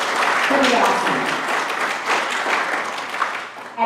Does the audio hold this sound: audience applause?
yes